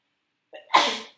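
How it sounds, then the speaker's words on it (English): A single loud sneeze close up: a short sharp inhale, then an explosive burst of breath that trails off quickly. "Oh, I'm going to sneeze."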